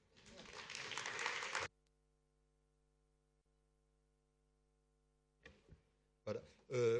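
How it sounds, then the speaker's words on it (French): Audience applause at a French study-day round table on water, dense and steady for under two seconds, then cut off abruptly into a faint electrical hum before speech resumes. "Vous pouvez l'applaudir."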